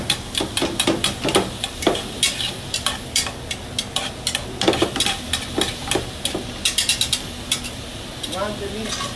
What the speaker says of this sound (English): Just make sure you stir the meat.